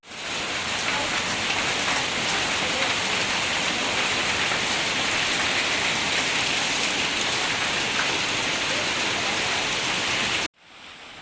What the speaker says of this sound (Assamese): আৰু বৰষুণ ফাইনেলি দিয়ে দিলে